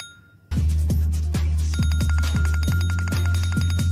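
A phone rings during a music video, a repeating electronic ringtone with regular pulses over a steady low backing, loud and close.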